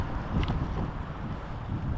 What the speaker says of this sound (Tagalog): Nag-snow, lakas. Mahangin, tapos may patak-patak na snow.